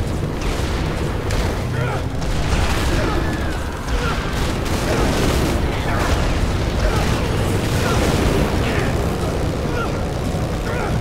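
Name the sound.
explosions in the video game Dead Rising 3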